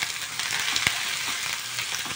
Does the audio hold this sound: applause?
no